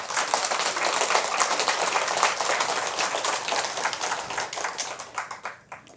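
An audience at a Buddhist dharma lecture claps in steady, dense applause that holds moderately loud, then thins into scattered individual claps and fades out at the end.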